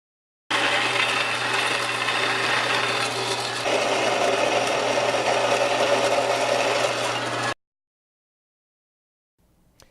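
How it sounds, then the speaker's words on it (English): A belt sander grinds an aluminum Viking sword blade, a loud, continuous abrasive whir lasting several seconds before cutting off abruptly into silence, followed by a faint knock. "I used the flat section of the belt sander and a 80-ish grit flat disc to just really do the best I could to clean up the blade"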